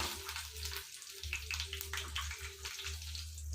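Steady sizzling and crackling of ginger and garlic frying in hot oil, fairly close, with a low hum underneath and no talking.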